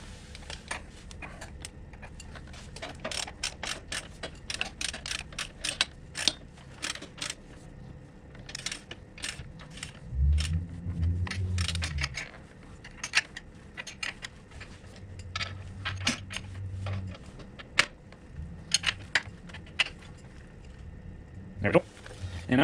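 Bolt being tightened on a tie-down bracket of a John Deere 260B backhoe, heard as scattered metallic clicks and wrench ratcheting with clinks and brief low scraping, close up over quiet background.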